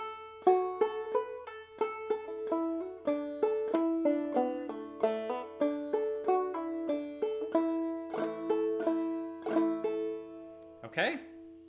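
Clawhammer banjo picks out the fiddle tune Belle of Lexington in A, with bright plucked notes and a steady bum-ditty rhythm played solo and up close, ending in a brief sharp noise.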